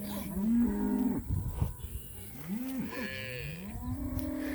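Steers and cows in a mob wanting a drink moo repeatedly, several overlapping low, drawn-out calls rising and falling, close by and loud over a faint outdoor background.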